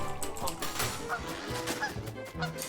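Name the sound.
goose honking, Woodie's goose form in Don't Starve Together video game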